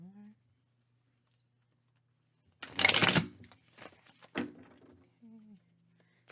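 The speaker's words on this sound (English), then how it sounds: "This one I need to shuffle." A brief burst of tarot cards being shuffled, followed by a few softer shuffles and taps, with a voice speaking briefly before and after.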